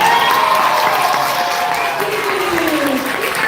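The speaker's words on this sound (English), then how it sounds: "We have a big, big round of applause, everyone." A school drama audience applauds in a sustained, even round, with some cheering and a voice talking over the clapping.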